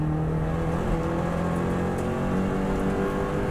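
A Subaru WRX STI engine pulls hard on the Isle of Man TT course, a steady loud drone heard from inside the car with no talk.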